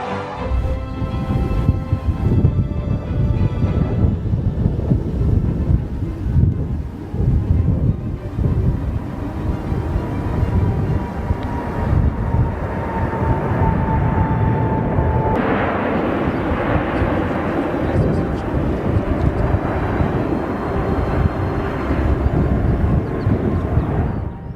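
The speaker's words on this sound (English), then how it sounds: "The Air Force Academy Graduation Thunderbird Flyover is one of those spectacles that gets" US Air Force Thunderbirds jets making a flyover at an Air Force Academy graduation, giving a loud, sustained broadband jet roar that holds steady for the whole stretch without a clear pass-by peak.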